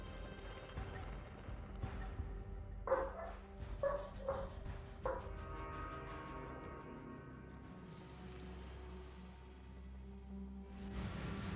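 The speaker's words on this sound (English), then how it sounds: "My dog is barking." A dog barks in short, far-off bursts indoors, a few yips and whimpers clustered in the middle of a low, steady background hum.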